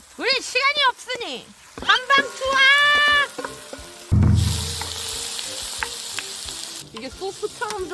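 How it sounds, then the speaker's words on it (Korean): Mushrooms, onion and tomato frying in garlic oil on a cast-iron pot lid, a loud crackling sizzle that erupts midway after stretches of people talking, continuing beneath occasional speech. "마늘 기름 됐으면 이제 버섯 기름 버섯 향도 충분히 넣어주세요 그 다음에 양파 넣고 토마토 넣어야 되는데"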